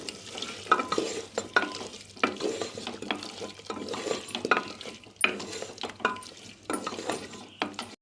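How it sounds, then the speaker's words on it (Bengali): Small diced potatoes are stirred in a frying pan, giving a series of irregular scraping, clattering strokes over a soft sizzle, fairly close and loud, with no talking. "এখন আমি আলুটাকে এর সঙ্গে ভালো করে একটু মিশিয়ে নেব"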